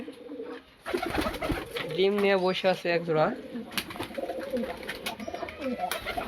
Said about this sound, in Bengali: এই কবুতরগুলো ভাইয়ের খুব পছন্দ, তাই এইভাবে সেট আপ দিয়ে রাখছে